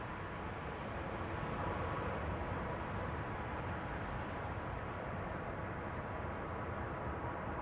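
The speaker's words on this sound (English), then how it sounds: "A320 Neorio. EasyJet arriving from Malaga." An easyJet Airbus A320neo arriving from Malaga at Schiphol, its engine roar a steady, loud broadband rumble that holds evenly throughout without a break.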